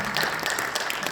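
Seminar audience applauding to welcome a presenter, a dense, steady patter of many hands clapping at a moderate distance that continues without a break.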